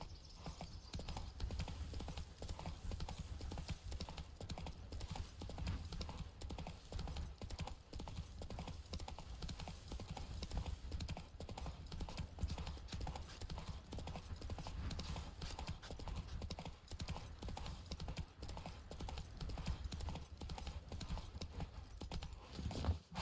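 Continuous rhythmic hoofbeats of a horse trotting along in The Witcher 3, steady and even for the whole stretch under a constant ambient wash.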